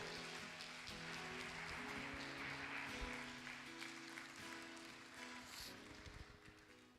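A church congregation applauds steadily for several seconds, a dense, even wash of clapping that fills the sanctuary with a faint musical hum underneath.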